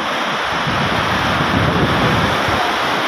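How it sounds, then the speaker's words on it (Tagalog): High floodwater washes in steady waves near moored boats, a loud continuous rushing surge with wind buffeting the microphone throughout and no voices. "Tubig pa lang yan at konting alon pa lang yan guys."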